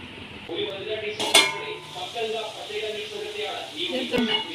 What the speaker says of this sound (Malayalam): ഇനി ഇതൊരു 15-20 മിനിറ്റ് നേരം ഇത് ഞാൻ മൂടി വയ്ക്കാൻ പോവാണ്.